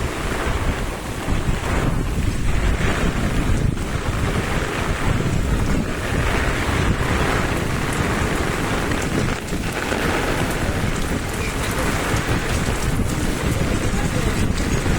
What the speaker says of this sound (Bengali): দেখুন কিভাবে ঢেউ আসতেছে, প্রচুর বৃষ্টি হচ্ছে, বৃষ্টির মধ্যেও অনেক ঢেউ।